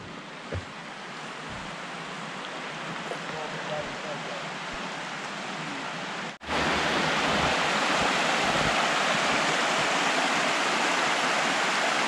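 Lunch Creek in Glacier National Park rushes over rocks in a steady broadband roar, growing suddenly louder and closer halfway through, with faint talk early on.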